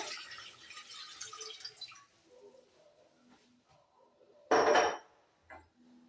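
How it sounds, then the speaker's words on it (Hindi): Two cups of water poured into a saucepan for Kashmiri pink tea, a steady splashing pour for about two seconds, followed by quiet kitchen clatter and one short, louder splash. "सबसे पहले आपने इसमें 2 कप पानी डालना है सॉसपैन में।"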